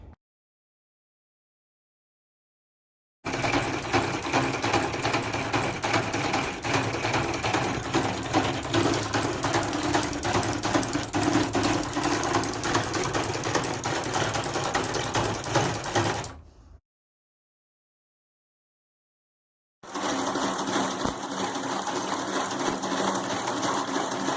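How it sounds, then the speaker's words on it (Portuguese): A homemade electromagnetic V8 motor driven by Arduino-controlled relays and coils runs with a dense, rapid buzzing clatter for about thirteen seconds, stops abruptly, then starts again after a pause. "esse é o princípio de funcionamento elétrico do nosso motor V8 eletromagnético"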